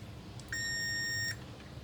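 A single steady electronic beep from a multimeter in continuity buzzer mode during laptop motherboard repair, high-pitched and clean, lasting under a second against a quiet background hum.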